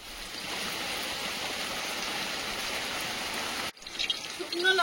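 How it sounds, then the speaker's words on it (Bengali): Steady rain falling close by as a uniform hiss, cut off abruptly near the end and followed by a few scattered clatters. "যখনই রান্না করতে এলে বৃষ্টি শুরু"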